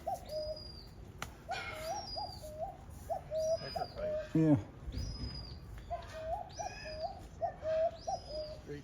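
Pigeons coo again and again in soft, repeated phrases nearby, with a short burst of wing flapping partway through, while people talk now and then.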